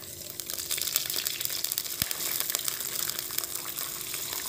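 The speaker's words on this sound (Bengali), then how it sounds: "সেদ্ধ করার জন্যে পরিমাণ মতো জল দিয়ে দেব।" Water poured into a pot of moong dal for boiling, a steady close hissing splash and gush with faint crackling underneath, continuous throughout, no talking.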